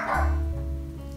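A Pomeranian dog gives a single short bark near a home's laundry area, loud and close, leaving a brief low ringing tail with no talk over it.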